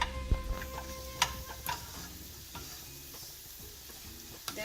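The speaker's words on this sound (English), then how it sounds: "You should mix it properly. Because of turmeric, yellow color will come all over the pohas, and you will come to know that it is mixed up properly." Poha flakes with turmeric are stirred and mixed in a pan, giving soft scraping and occasional sharp clicks of a utensil against the pan over a faint sizzle, quiet and close with no talking.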